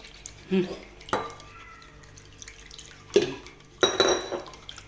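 A spoon clatters and scrapes in a bowl while quiche filling with cheese is stirred, giving a few separate bursts of knocking and scraping with quiet gaps between them, close and fairly loud.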